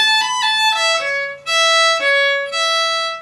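Solo violin plays the B section of a traditional Swedish tune, including an ornamental turn, with clear bowed notes, a quick flourish near the start and several sustained phrases.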